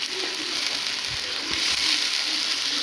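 Onion frying in a pan with ginger-garlic paste, a steady sizzle with a few scraping stirs of a spoon against the pan, heard up close.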